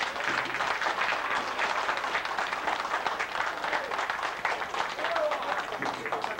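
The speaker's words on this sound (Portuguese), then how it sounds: "que deem uma salva de palmas aos contemplados das garrafas" Audience applause at a 1988 cantoria folk-singing event in Lowell, a dense continuous wash of clapping filling the room at steady loudness throughout.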